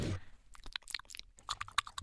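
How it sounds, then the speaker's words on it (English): Wet mouth noises from someone eating macaroni from a pot: soft chewing, smacking and clicking in irregular bursts, very close and quiet, with a louder rustle at the start and no talking. "Just flopping around my mouth. I was eating macaroni."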